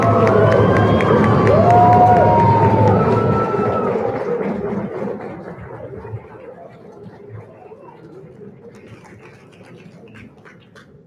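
A crowd at a debate final cheers and applauds after a speech. The noise is loud, mixed with whoops and chatter, then gradually dies down into scattered murmuring over about eleven seconds.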